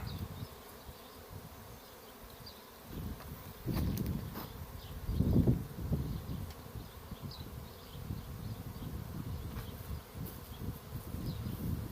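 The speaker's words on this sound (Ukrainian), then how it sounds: "Ось прививається рій." A swarm of bees being hived buzzes continuously outdoors, a dense droning hum that swells louder in the middle and stays steady throughout.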